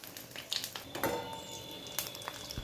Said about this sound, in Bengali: বাকি ফুলগুলোও একইভাবে ভেজে নেব।